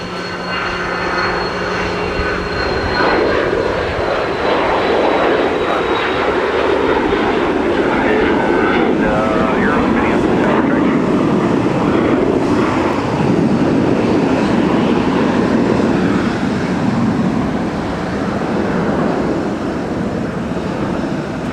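A Delta airliner lands on runway 12 right at Minneapolis–St. Paul Airport during a winter storm, a loud, sustained roar of engines and rushing noise that holds steady throughout, with faint radio voices underneath.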